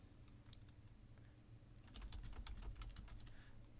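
Fingers tapping keys on a computer keyboard while entering values in CAD software, a quiet sparse click or two followed by a faster burst of close, crisp keystrokes.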